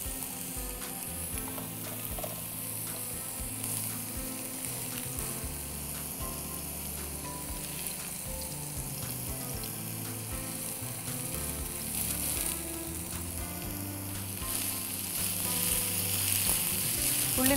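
Cubes of paneer sizzling and crackling in an oiled pan, a steady close fry with light scraping from stirring throughout, growing slightly louder near the end, with no voices.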